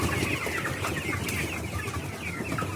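Tiger chickens on a poultry farm cluck continuously in a flock, with overlapping calls forming a busy, moderately loud chorus and no talk over it.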